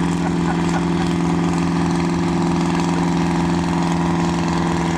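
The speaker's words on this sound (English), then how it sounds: "Here's a John Deere B, made in 1948." A 1948 John Deere B tractor engine idles at a loud, steady mechanical thrum with a constant low pulsing drone, no voices over it.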